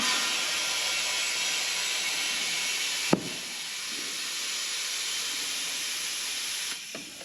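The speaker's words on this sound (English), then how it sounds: "Just need to blow this up now because it's close but not quite there." Compressed air hissing steadily into a 14-inch Japanese car wheel's tyre to seat the bead, a loud continuous close hiss with a single sharp snap partway through.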